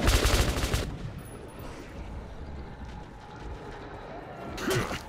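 Gunfire aimed at a monster in the video game Metro 2033: a dense rattling burst at the start, a low rumbling ambience after, then another short burst near the end.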